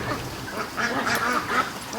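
A calm pet-like duck gives a run of nasal quacks at close range, several raspy calls in quick succession, fairly soft against a light background.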